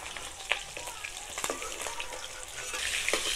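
Khoira fish fry in hot oil in a village-style kitchen, a close, crackling sizzle with sharp pops and spatters throughout, no speech.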